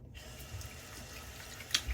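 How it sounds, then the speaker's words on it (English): Running tap water splashes over hands being rinsed at a sink, a steady low wash with a brief brighter splash near the end, heard alone without talk. "Rinse your hands off like I'm doing now if you're not wearing gloves."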